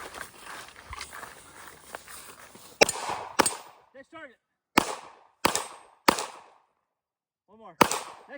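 Pistol shots at an outdoor run-and-gun shooting competition: about six sharp, loud cracks at irregular intervals with brief echoes, after a stretch of rustling movement, and a few short voiced calls between shots.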